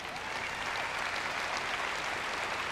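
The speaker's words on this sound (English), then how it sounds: "Let's have one more round of applause for Tom Soderstrom." Keynote audience at the AWS Public Sector Summit in Washington, D.C. breaks into dense, sustained applause, steady and full throughout with no voices over it.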